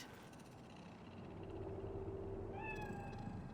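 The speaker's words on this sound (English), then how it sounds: "It's a cat like any other." A cat in the video game Cyberpunk 2077, set in Night City, lets out a single short meow near the end, faint over a steady low ambient rumble.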